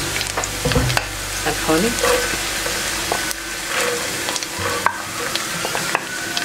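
Chopped carrots stirred into onions frying until translucent for a quinoa vegetable soup, giving a steady close sizzle with scraping and stirring clatter throughout; a voice speaks briefly near the start.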